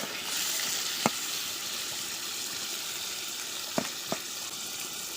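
Crabs fry in a pan with a continuous close sizzle, broken by two or three sharp clinks of a utensil against the pan; nobody speaks.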